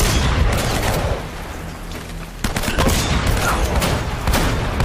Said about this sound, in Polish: poczekam, aż ten skończy strzelać, bo to jest Paulstein.